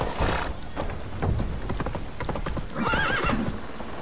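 Horse hooves clip-clopping at a gallop with a loud neigh near the end, from The Witcher 3 video game; steady close hoofbeats throughout.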